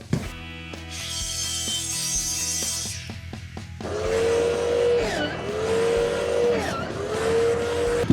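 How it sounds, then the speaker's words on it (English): A miter saw spins up with a rising whine, then bites into wood with a loud, close, rasping cut that swells and dips over several seconds. "Well, I can't think of a better place to cut this than the miter saw."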